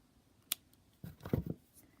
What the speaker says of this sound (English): If I wish, I can snip in intermittent places